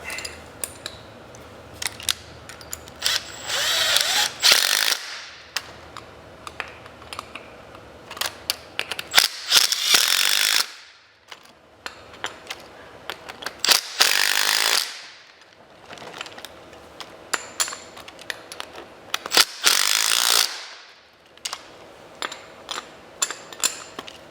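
Bolts on the rear wheel rim of a StrikeForce powerchair being tightened with a power tool, four bursts of loud whirring rattle lasting a few seconds each, separated by clicks and handling noise, close by.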